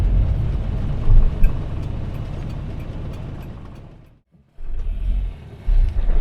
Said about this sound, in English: That's pulling away in second, and that's us doing about 15 miles an hour in third, and it just accelerates.